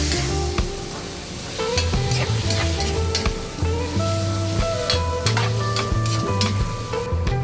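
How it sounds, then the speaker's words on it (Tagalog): Pork belly and beef being stirred in a hot pan for dinuguan, a steady loud sizzle of frying with repeated scraping strokes of the utensil throughout, no voices. "Ilagay na natin ang ating pork belly. At beef. At ating imikos-mikos."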